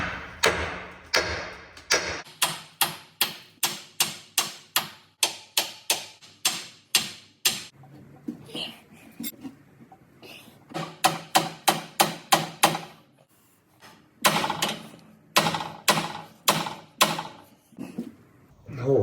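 Repeated hammer blows on a heavy HGV truck part, a steady run of sharp metallic strikes in quick bursts with brief pauses between, close and loud, with no talking.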